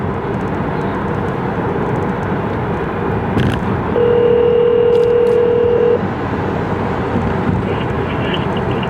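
A phone's ringback tone purrs steadily for about two seconds while an outgoing call connects, a single clear burst over constant roomy background noise.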